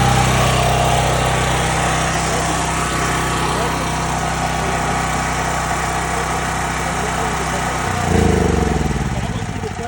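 A DuroMax XP12000EH home generator engine running, a loud, steady, close drone that shifts in pitch near the end as the load changes, with people talking faintly over it.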